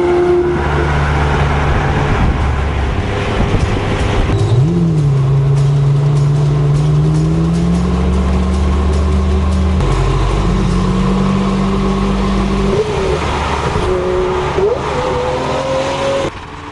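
Lamborghini Murcielago LP 640 V12 accelerating hard, a loud, close engine roar that climbs in pitch through several gears, with brief dips at each shift and no talking.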